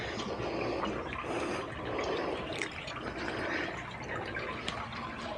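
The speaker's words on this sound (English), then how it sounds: "I can pull the stern up and let all the water drain further forward first" Water drains and drips inside a 27-foot boat salvaged after a hurricane, a continuous trickling wash with scattered drips, fairly close and steady, no talk.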